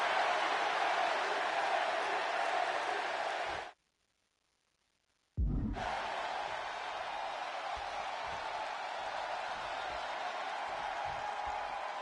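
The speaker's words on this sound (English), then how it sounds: "And just listen to this crowd here in Chicago." Arena crowd in a WWE video game at a Chicago event, a loud, steady roar filling the space, cutting out abruptly for about two seconds before returning at full strength.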